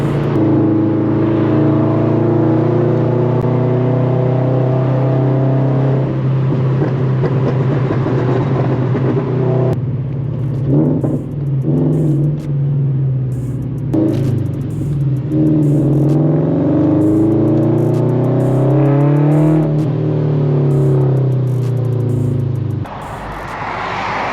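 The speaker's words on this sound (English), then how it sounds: "I don't know if the GoPro is picking up the intake noises" A straight-piped Subaru BRZ/Toyota 86 sports car engine drones and revs up and down repeatedly on a highway, intake roar and exhaust note rising and falling loudly throughout, with no talking.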